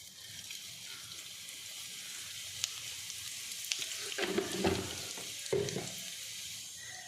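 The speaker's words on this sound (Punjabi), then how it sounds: "ਇੱਧਰ ਕੜਾਹੀ ਦੇ ਵਿੱਚ ਅਸੀਂ ਤੇਲ ਪਾ ਲਿਆ ਤੇ ਹੁਣ ਇਹਦੇ ਵਿੱਚ ਅਸੀਂ ਜੀਰਾ ਪਾਵਾਂਗੇ" Cumin seeds sizzle in hot oil in a kadai, a soft steady hiss with a few light taps and stirring scrapes near the end.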